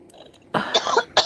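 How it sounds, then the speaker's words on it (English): A single close, harsh cough bursts out after a quiet moment, followed by a short second cough. "I had to cough."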